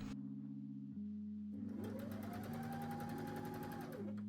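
A sewing machine overlocks and top-stitches the seams of a thrifted shirt being reworked into shorts, running in steady continuous bursts of close, loud motor hum and needle chatter with brief pauses between passes.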